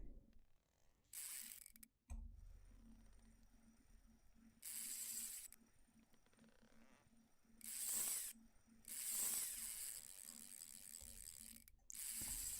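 Fishing reel in the game Russian Fishing 4 letting out line as a hooked fish runs, giving loud bursts of rapid ratcheting drag clicks that start and stop repeatedly over a faint steady hum.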